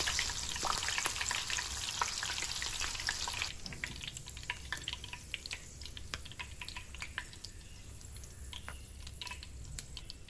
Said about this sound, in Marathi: भजीबरोबर खाण्यासाठी हिरवी मिरची तळूया.